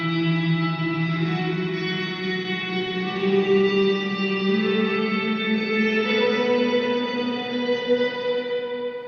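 An electric guitar is picked rapidly and steadily through a drone reverb effect. The notes blur into a dense, shimmering wash of sustained layered tones that swells slightly and then holds at a loud level for the whole passage.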